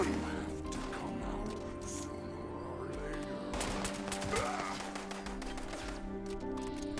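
Gunfire in the video game Fallout 76 crackles as rapid bursts of shots over a steady background of game music and ambience, while someone talks over the action.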